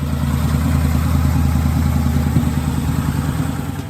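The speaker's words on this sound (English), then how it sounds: "they get to see the tuned Harley-Davidson Night Rod on their screens" A tuned 2013 Harley-Davidson Night Rod with a 1250cc, 125-horsepower engine runs steadily, a loud, deep rumbling idle with a rapid lumpy pulse and no voices over it.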